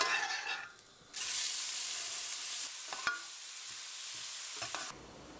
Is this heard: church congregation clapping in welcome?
no